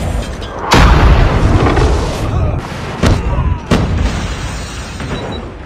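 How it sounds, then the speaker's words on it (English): Heavy booming blasts from a napalm strike in Call of Duty Mobile, several loud explosive thumps landing in quick succession over a rumbling, crackling fiery roar. "Enemy napalm has been deployed."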